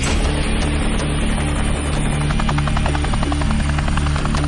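A Navy Seahawk helicopter roars loudly overhead at sea, its rotor chop and turbine whine a continuous dense wash throughout, with no voices.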